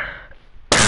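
A child with a cold lets out one short, sharp cough near the microphone, preceded by a faint murmur.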